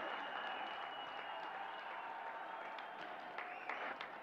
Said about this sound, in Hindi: बहुत ही उल्लास के साथ तालियों से स्वागत करें।